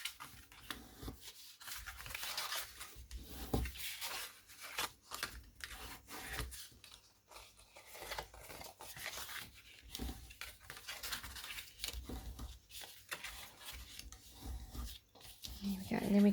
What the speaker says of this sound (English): we can go along and give our straight score lines a fold and a burnish